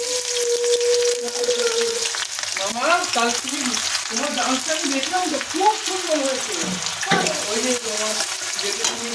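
Egg batter with onion sizzling loudly in hot oil, a steady crackling fry that runs throughout while a spatula scrapes and stirs, with voices talking over it.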